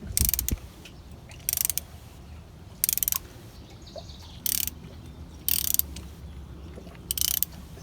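Thread tap slowly unscrewed from a rethreaded cylinder spark plug hole, heard as six short bursts of metallic ratcheting clicks at a steady rhythm with quiet gaps between, close up, no talking.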